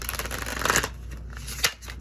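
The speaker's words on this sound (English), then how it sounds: "Let me give these a quick shuffle." A deck of tarot cards is shuffled close by, a dense riffling flutter that ends in a soft tap as the cards settle.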